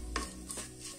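Mustard seeds (rai) crackle and sizzle in hot oil for a tadka, giving short bursts of popping and spitting over a steady frying hiss, close to the pan with no talking.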